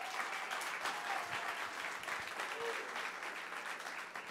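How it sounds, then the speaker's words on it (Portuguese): A church audience applauds at a ceremony, the steady crowd clapping continuous and moderately quiet, with a few individual claps standing out and faint murmurs underneath. "Tá fraca essas palmas, pode ser mais forte."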